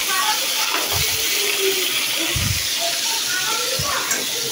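Pieces of poultry chicken meat frying in hot oil in a kadai on a stove, a continuous sizzling hiss with a few low thumps and clatters, some background sounds around it.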